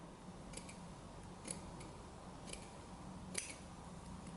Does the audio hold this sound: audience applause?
no